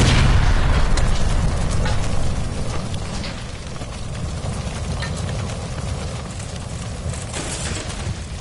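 A gas line blows up in a burning building in the video game LA Noire: a loud, heavy blast that rolls into a long rumbling roar, fading slowly.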